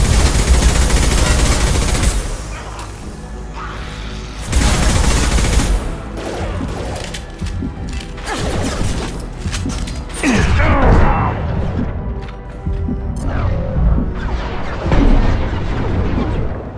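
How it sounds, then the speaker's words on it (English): Sustained gunfire rattles through a Mass Effect 2 firefight, with bursts of automatic shots, booms and mechanical clanks rolling on and off for several seconds, loud and close. "Taking some fire, Shepard."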